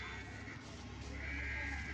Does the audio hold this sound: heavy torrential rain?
no